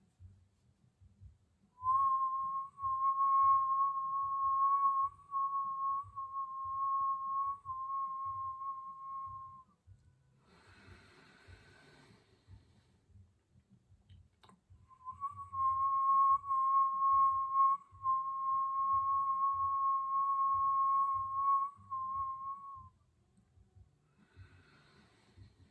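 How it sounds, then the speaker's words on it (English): Kriya breathing exercise: a long, steady whistled inhale, then a nasal exhale, then a second long whistled inhale, each near and clear against quiet breathing noise. "you're going to inhale with a whistle and exhale through your nose"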